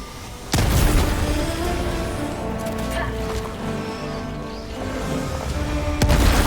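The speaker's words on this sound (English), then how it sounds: "Throwing grenade!" A grenade blast in Helldivers 2 erupts suddenly after a brief lead-in, a loud booming impact with dense rumbling battle noise continuing afterward and another sharp burst near the end, with a voice faintly in the mix.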